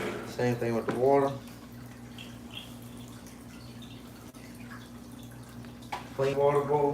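Water pours steadily into a clean bowl inside a pet python's enclosure, a soft continuous trickle between short bursts of someone talking.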